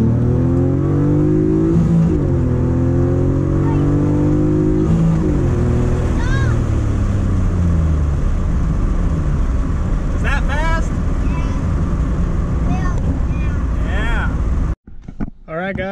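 Honda Accord hatchback fitted with a J35 intake manifold and spacer on a J30 engine accelerates hard, loud rising engine roar climbing through gear shifts up close, with people talking inside the cabin.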